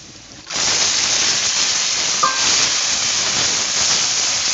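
Chicken pieces dropped into fried onions in a pan, setting off a sudden loud, steady hiss of sizzling that starts after a brief quiet moment and continues evenly, with a faint clink partway through.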